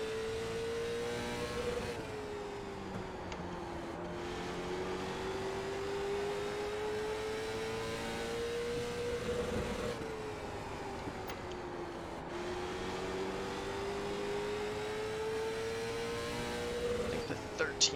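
Late Model stock cars racing in the iRacing sim: a steady engine drone rises and falls through gear and throttle changes on a loop, with other cars faintly around it.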